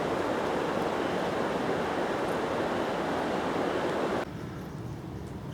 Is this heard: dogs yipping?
no